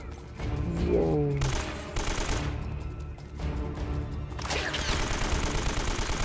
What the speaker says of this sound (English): I see them shooting at me, but I can't really see them.